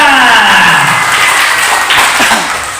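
A crowd at a district-level Islamic school quiz competition applauds a team's score with loud, sustained clapping. A falling tone sounds at the start, and the applause thins slightly toward the end.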